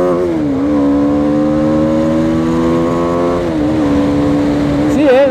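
A BMW G 310 R motorcycle engine held at high revs: a loud, steady buzzing drone that dips slightly midway and then resumes at an even pitch.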